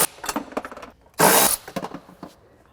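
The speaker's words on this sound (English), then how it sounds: "You're going to use an 18mm socket." Clicks and short metallic rattles from an 18mm socket wrench loosening the seat anchor bolts on a Can-Am X3 side-by-side, with one louder, harsher burst of ratcheting midway; close and fairly loud, no talking.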